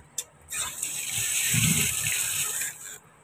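A kitchen tap runs steadily over fish being rinsed clean, a continuous hissing gush with a splashing patch midway, starting abruptly and cutting off near the end.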